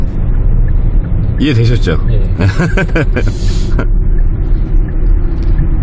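Steady low engine rumble from inside a moving 2018 Hyundai Santa Fe TM, continuous beneath someone talking close by.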